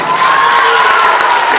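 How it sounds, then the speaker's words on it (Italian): Applause and cheering from an audience at a culture gala, a short, dense and steady wash of clapping with a few raised voices. "applausi"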